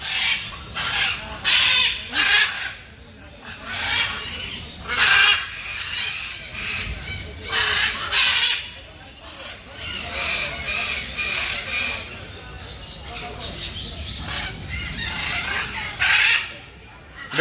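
Macaws in the aviary at Alipore Zoo in Kolkata screech harshly in repeated loud bursts during the rain. The calls come close and overlapping, with quieter gaps of rain and ambient noise between them.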